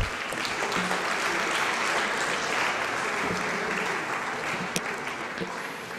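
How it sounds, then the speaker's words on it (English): Sustained applause from an audience fills the room, a dense steady clatter of clapping that fades slightly toward the end. "please give a round of applause to our Director General, Madam Zaude."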